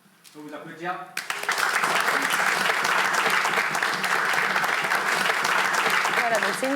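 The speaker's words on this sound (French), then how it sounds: "Je peux vous applaudir." An audience breaks into sustained applause after a brief spoken line, the dense clapping filling the room loudly and evenly until the end.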